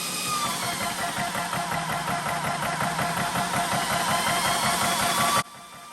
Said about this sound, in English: Now we're gonna start the compressor.